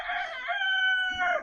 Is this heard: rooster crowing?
yes